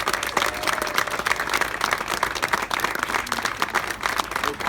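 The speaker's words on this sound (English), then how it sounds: "Can we get another round of applause for all of our" Audience applause at a charity wine tasting honoree ceremony, steady dense clapping from a sizable crowd throughout, moderately loud and unbroken, with no talk over it.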